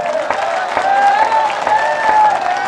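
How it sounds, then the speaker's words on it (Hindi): A crowd claps steadily at a Hindi comic poetry gathering, a dense, even wash of applause lasting throughout, with sustained tonal voice or music rising over it. "एक बार आगे से पीछे तक जितने श्रोता हैं सब तालियां बजाएं।"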